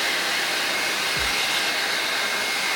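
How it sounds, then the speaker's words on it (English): A hair dryer blows continuously at close range while drying paint on customized shoes, a loud steady whooshing hiss with a faint low bump partway through. "So I found that using a hairdryer, any hairdryer, works way better."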